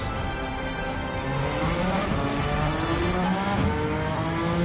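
Race car engine in Gran Turismo 7 revving and shifting up through the gears, rising whining tones stepping upward, loud and continuous with no talk over it.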